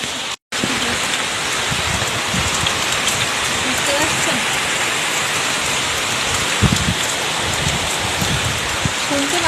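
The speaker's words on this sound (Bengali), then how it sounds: "তোমরা বুঝতে পারবে বৃষ্টি করছে" Heavy rain pours down in a dense, constant roar close by, with a brief dropout near the start and a few louder splashes breaking through.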